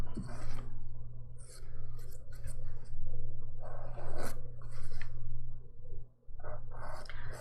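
A nail file rasps around the edges of dip powder manicure nails, shaping them in short scratchy strokes that come in bursts over a steady low hum, close by.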